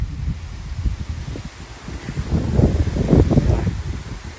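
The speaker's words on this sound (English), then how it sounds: "It's very windy today." Gusty wind buffets the microphone outdoors, a low rumbling roar that swells and strengthens toward the end, with faint rustling beneath.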